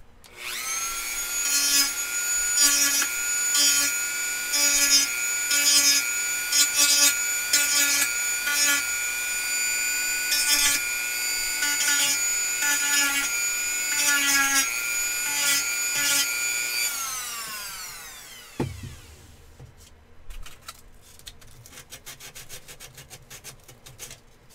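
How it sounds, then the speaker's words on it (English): A Dremel rotary tool grinds in a build with a sustained high whine, pulsing slightly as it is pressed and eased off for about seventeen seconds, then spins down and stops, followed by faint handling noise. "I need to go back in there with a Dremel."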